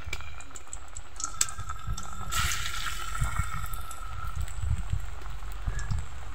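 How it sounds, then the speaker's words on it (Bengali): Potato pakora batter sizzles and crackles in hot oil, with a brighter bubbling burst partway through and a busy spattering texture throughout. "গরম তেলের মধ্যে পেঁয়াজির উপকরণগুলো দিয়ে দিলাম"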